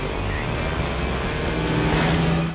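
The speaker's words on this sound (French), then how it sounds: "Un groupe de motards dépasse leur voiture à toute allure." A group of motorcycles speeds past a car, a loud roaring rush of engines with a rising drone that swells toward the end, close and continuous with no talk.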